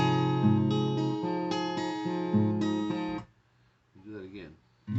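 An acoustic guitar in D standard tuning plays a pattern, strums and ringing picked strings for about three seconds, then a brief voice after it stops.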